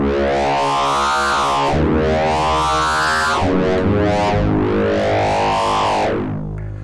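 Slow Razor preset patch on an MRB Zeroscillator FM synthesizer module in Voltage Modular, a loud buzzy tone whose bright harmonics sweep up and down in three slow arcs, fading slightly at the end.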